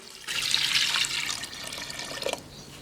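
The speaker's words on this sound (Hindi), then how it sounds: "अब हम इसमें 1 लीटर पानी शामिल करेंगे।" About 1 litre of water pours steadily into a pressure cooker for about two seconds with a bright splashing rush, then cuts off, while cooking beef shami kabab.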